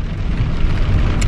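Rain falling outdoors on a school day, a loud, steady broadband wash of rain noise with no pauses, heard close and alone.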